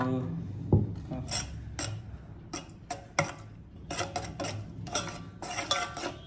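Yeast being mixed into bread dough ingredients in a bowl, a series of light clinks and scraping stirs at irregular intervals, close and fairly quiet with no talking.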